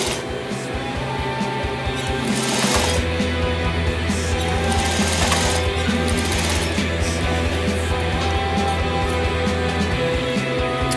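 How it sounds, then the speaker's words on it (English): Sewing machine stitching a skinny tie, a continuous mechanical whirr with rapid needle chatter running steadily for several seconds, close and fairly quiet, no talking. "We're gonna sew up to that last line of stitching we did."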